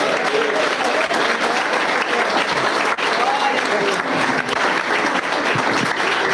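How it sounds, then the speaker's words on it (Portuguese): Church congregation applauding during a pastor's installation service, steady dense clapping filling the room while a voice speaks over it. "Aplauda ao Senhor."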